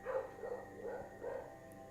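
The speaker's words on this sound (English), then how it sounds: "my dog is going crazy outside" A dog barks several times in quick bursts, muffled and somewhat distant outdoors, heard faintly against a quiet room during a relaxation yoga session.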